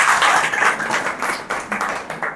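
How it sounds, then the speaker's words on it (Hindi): A church congregation claps together in sustained applause, a dense, even patter of many hands at close range with no talk over it. "एक अच्छा ताली बजाएं प्रभु के लिए"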